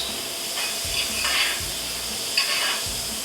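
Peaches and prosciutto sizzle in a hot pan while being basted, a steady close frying hiss with brief spoon-and-pan stirring swells, no voices over it.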